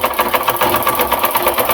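A sewing machine stitches clothing in a village home, running steadily with a fast, even mechanical rattle and rhythmic needle pulses, loud and close with no voices.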